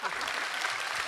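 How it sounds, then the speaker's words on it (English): Audience at a Comic-Con panel for The Walking Dead in Liverpool clapping, a dense, even applause filling a large hall throughout this brief moment. "People clapping."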